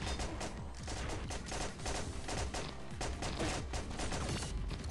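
Rapid gunfire from the mobile shooter game Pixel Gun 3D, dense bursts of shots crackling continuously and loudly throughout with no talk.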